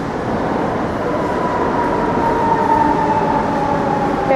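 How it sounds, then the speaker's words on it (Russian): A driverless metro train runs along the track in Rome, a steady loud rail rumble with a faint tonal whine rising slightly toward the end, no voices present. "Сейчас будет идти метро, где нет машиниста."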